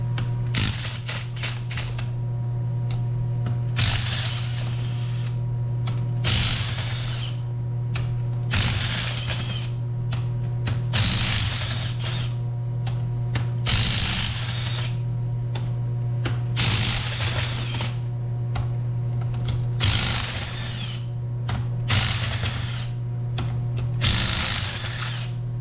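A ratchet with an extension loosens bolts on a Polaris 700 engine, giving repeated bursts of fast, close clicking over a steady low hum in the background.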